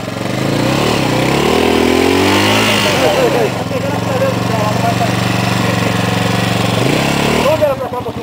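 A trail motorcycle engine revs loudly and close on a dirt trail ride, rising and falling in pitch with a rough, buzzing roar, while people shout over it.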